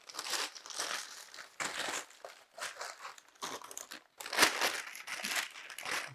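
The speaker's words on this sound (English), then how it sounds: "Be very careful when pulling the paper out of the box." Packing paper is pulled and crumpled out of a cardboard box holding snowman craft parts, giving continuous close crinkling and rustling in uneven bursts with a brief pause near the middle.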